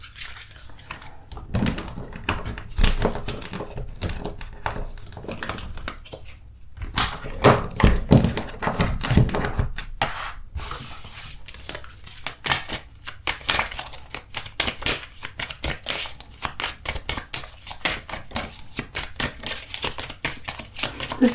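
Oracle cards being shuffled and pulled during a tarot-style reading: dense runs of crisp riffling and flicking, near and fairly loud, with card slaps and swishes in bursts and no talking.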